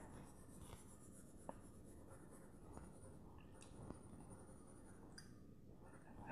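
Pencil strokes scratching across paper while drawing a spoon, a soft steady graphite rasp with a few brief sharper ticks, close and quiet, no voices.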